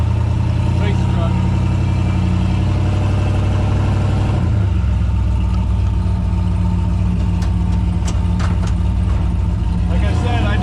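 A turbocharged LS-swapped Chevrolet S10 race truck runs loud and close with a deep, throbbing, rumbling note. Partway through the revs shift, and sharp clicks and pops rise over the steady engine drone.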